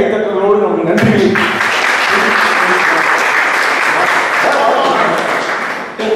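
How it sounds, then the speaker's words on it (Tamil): Audience claps in thanks at a Tamil community event, a full burst of applause that starts abruptly after a second of speech and carries steadily for about five seconds before ending. "கைத்தட்டுகளோடு நம்ம நன்றியை."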